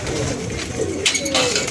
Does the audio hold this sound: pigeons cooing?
yes